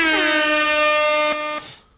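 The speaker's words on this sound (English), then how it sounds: "An air horn for that, baby." A single loud air horn sound effect blares in one sustained, brassy blast with a slight pitch dip at its start, cutting off abruptly after about a second and a half.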